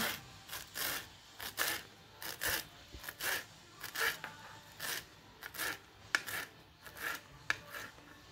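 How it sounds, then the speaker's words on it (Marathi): A knife cuts through fresh coriander leaves on a board, giving steady rhythmic rasping strokes, each short and close, repeated evenly with brief pauses between. "आता आपण कोथिंबीर चिरून घेऊया।"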